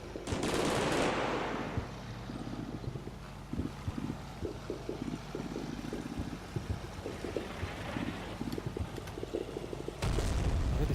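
Machine gun fire in the World War II video game Combat Mission: Battle for Normandy, rapid bursts of rattling shots in an irregular rhythm over a windy background, with heavier booms at the start and end.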